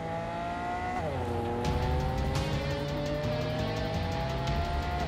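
A car engine revs and drones steadily with gear-shift pitch drops in the video game Cyberpunk 2077, with no one talking.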